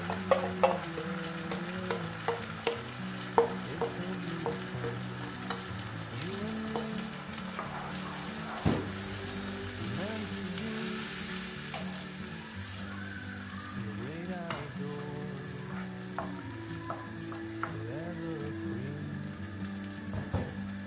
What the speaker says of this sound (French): Et nous allons laisser mijoter quelques minutes.